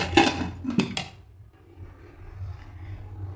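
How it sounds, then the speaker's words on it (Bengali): A lid clanks shut on a pot of mutton curry gravy with potatoes. Two or three sharp metallic knocks sound up close, followed by a low, quiet hum from the stove. "এরপর ঢাকনা বন্ধ করে দেবো।"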